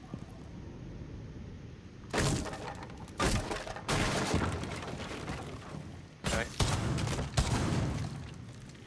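Shotgun fire in the tactical shooter Rainbow Six Siege, heavy blasts in bursts separated by short gaps, each with rattling debris and impact thuds, loud and close, with a player's voice talking through.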